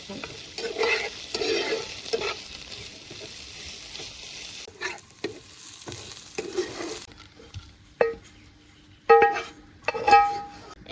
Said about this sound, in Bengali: এখন সুন্দর মতন ভেজে নেব ওরা